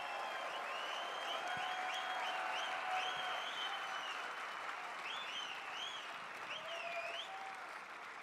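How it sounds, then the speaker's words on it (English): Sustained audience applause for Khabib Nurmagomedov at a live event at Meridian Hall in Toronto, a dense, even wash of many hands clapping with scattered whistles over the crowd, steady for the whole stretch. "a warm round of applause for the greatest in the world, man."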